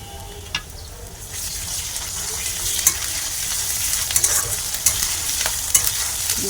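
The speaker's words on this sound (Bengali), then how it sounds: "ভালো করে কষিয়ে নেব।" Close-up sizzling of onion with garlic, ginger and cumin paste frying in a hot pan, with scraping stirs and small crackles running steadily throughout.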